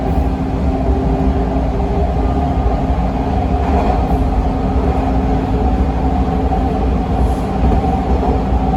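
A Toronto TTC Line 2 subway train is heard from inside as it travels between Kipling and St George, a loud, steady rumble of wheels and motor with faint squeals and no talk.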